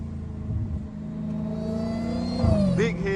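A Dodge Challenger SRT Hellcat engine rumbling close by and revving, its deep drone holding steady before a sharp rise in pitch near the end, with people talking over it.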